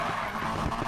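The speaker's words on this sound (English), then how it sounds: "It'll just go ahead and drift, regardless." A car drifting in the Need for Speed Payback racing game, with a continuous engine drone and tire skid squeal that hold steady through a brief stretch with no talk.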